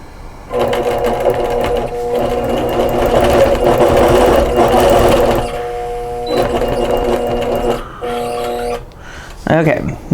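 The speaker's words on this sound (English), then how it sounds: "Loosely hold that elastic down and hit the sew button." An APQS longarm quilting machine stitches elastic onto a fabric face mask, a loud, close, rapid mechanical whir in bursts of several seconds with brief pauses, ending in short clicks.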